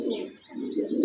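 A competition racing pigeon coos close by in low, rolling throaty notes, two soft phrases with a brief dip between them and no other sound.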